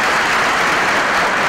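Sustained applause from an audience at a provincial party congress, steady dense clapping throughout, loud and close.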